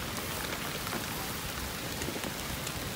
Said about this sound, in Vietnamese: Giờ phải núp mưa vậy.